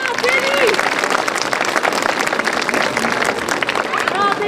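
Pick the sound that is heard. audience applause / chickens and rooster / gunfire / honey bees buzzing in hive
audience applause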